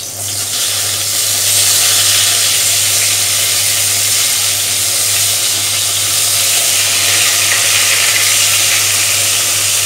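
Spiced aubergine slices fry in hot oil in a wok, giving a loud, steady sizzle that holds unbroken for the whole stretch with no voices over it.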